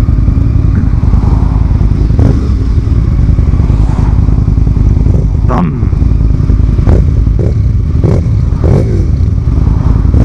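Motorcycles ride along a road toward Devil's Bridge, with loud, continuous engine drone and wind rush close by, and several brief passing whooshes and clattering bursts on top.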